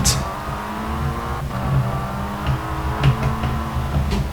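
A K74 Rivals car's engine drones steadily in a racing game, holding a sustained tone with slight rises in revs, close and fairly loud, with a few small clicks and knocks over it.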